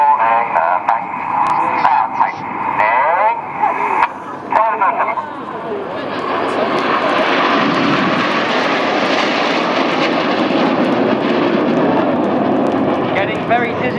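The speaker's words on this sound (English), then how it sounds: "Now here goes Red 5. He's going to roll around Enid a dozen times. This is the twister" Red Arrows jet aircraft fly the twister manoeuvre at an airshow, one jet rolling around another, with a steady loud roar that builds and holds under a public-address commentator talking.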